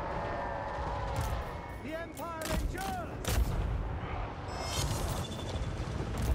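Handgunners firing volleys in Total War Warhammer 3, a dense battlefield din of repeated sharp gunshot cracks over a constant roar, with shouted voices and unit calls mixed in.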